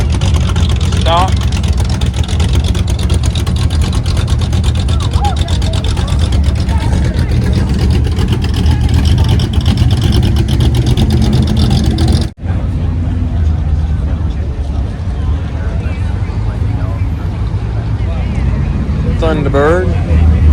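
A stock 1969 Camaro's engine runs at an antique car show in Deadwood, South Dakota, a steady low rumble under continuous crowd chatter and nearby voices, with a brief break partway through.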